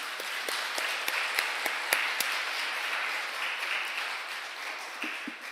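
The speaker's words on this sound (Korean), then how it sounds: "우리 하나님께 감사와 영광을 올려드리는 박수 한번 올려드리면 좋겠습니다" A church congregation at a Friday night worship service claps together in a moderate round of applause, a dense patter with a few sharper claps standing out.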